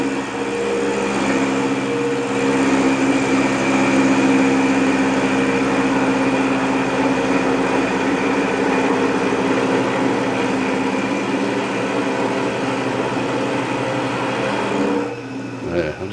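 Craftex CX603 knee mill cutting a 1-inch mild steel plate, giving a steady, loud mechanical hum and drone with a constant machining whine that runs unbroken, then drops off near the end.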